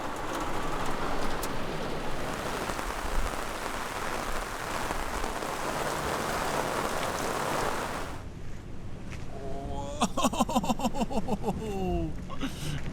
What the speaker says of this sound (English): the noise of the rain hitting the van made it hard to talk to each other without raised voices